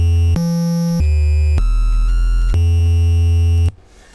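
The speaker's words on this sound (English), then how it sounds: "Yep, that sounds very NES-like to me." An NES-style 8-bit chiptune loop built in ModPlug Tracker plays loud and steady, with buzzy square-wave notes changing pitch every half second or so before it cuts off abruptly into near silence.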